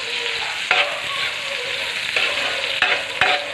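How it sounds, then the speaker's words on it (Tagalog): Onions caramelizing in a pan for beef caldereta, a steady broadband sizzle with a few sharper scraping stirs near 0.7, 2.2, 2.8 and 3.2 seconds, close and fairly loud with no talking. "Caramelize na ang ating onion."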